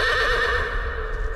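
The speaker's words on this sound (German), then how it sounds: "Gestern Nacht war da auf einmal ein Pferd." A horse whinnies in a drawn-out, steady call that runs through the whole moment, close and fairly loud, with no talking.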